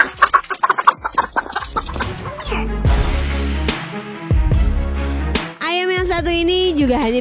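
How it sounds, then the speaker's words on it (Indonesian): Fleeing chickens chased by a fox let out quick, loud clucks near the start, followed by sustained, steady tonal sounds. "ini juga hanya bisa berlari sekencang mungkin saat dikejar-kejar oleh seekor rubah nih guys."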